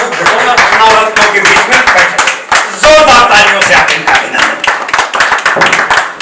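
An audience at an awards ceremony claps loudly and continuously to honour a guest, a dense close patter of hands with voices speaking over it.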